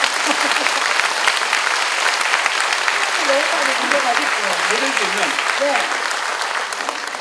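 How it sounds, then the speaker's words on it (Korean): Sustained, loud applause from an audience at a Catholic book concert, clapping for the Daughters of St Paul nuns, continuing steadily throughout while a voice speaks over it. "우리 수녀님들한테 박수 한번 드리면 안 돼요?"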